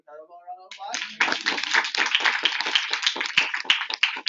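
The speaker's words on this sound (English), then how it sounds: "Can we give Arabelle a round of applause?" After a brief voice, a crowd at a Saturday training session breaks into steady, close clapping from many hands that continues strongly to the end.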